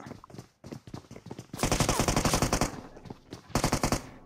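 Automatic gunfire in the video game PUBG: rapid machine-gun bursts, one long and one shorter, loud and close, with softer single shots before them.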